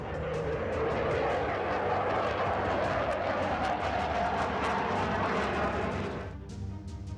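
A Rafale fighter jet carrying missiles roars past at an Air Force Day display. The loud jet noise is continuous, then eases and fades near the end.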